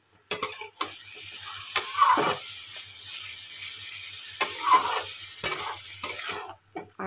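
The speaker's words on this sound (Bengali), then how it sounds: "হালকা করে না আমি একটুখানি চিকেনটা না ভেজে নিই" Chicken frying lightly in a pan with onions, a close steady sizzle broken by clanking scrapes of a stirring utensil at intervals.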